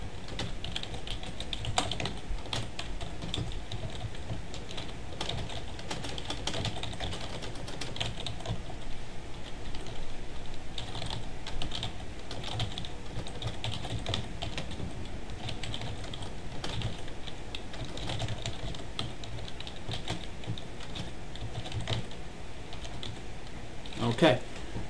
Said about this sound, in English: let's type it and then I will explain